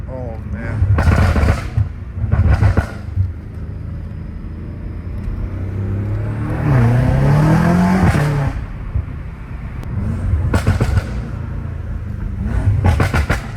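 A BMW M5 Competition fitted with downpipes revs and accelerates at night, its engine note surging in short loud bursts and rising around the middle, with someone talking over parts of it.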